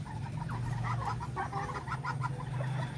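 Native Darag chickens at a breeder's pen cluck and murmur softly in a steady, low-level chatter, several birds overlapping at a moderate distance.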